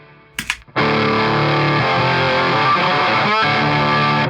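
An electric guitar played through a heavy-duty, tour-grade Reeves Electro Black Hat pedal, giving a loud, thick, distorted sustained chord after a brief pick scrape, then a quick strum change partway through.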